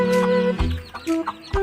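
A chicken clucks close by in a few loud, throaty bursts, with squawky tonal calls rising and falling in quick succession.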